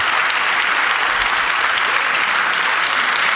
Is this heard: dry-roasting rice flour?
no